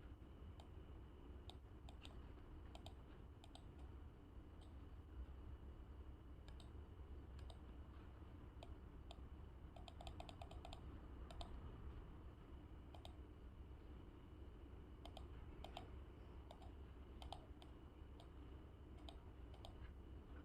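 Keyboard typing while logo text is entered in the Imagitor app, heard as quiet scattered clicks in short bursts over a low steady background hum.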